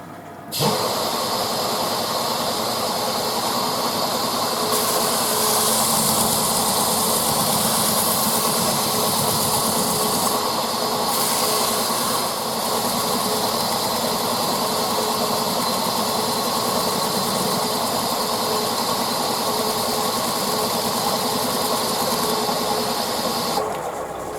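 A wood lathe spins a live-edge cherry wood bowl, giving a steady, loud motor hum and whirring hiss that holds constant for over twenty seconds with no talk.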